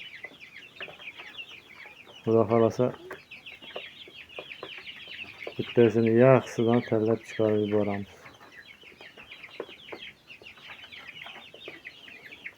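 Chickens and young chicks on an Uzbek farm clucking and peeping steadily throughout, with bursts of louder clucking from nearby hens in the middle; someone speaks over them.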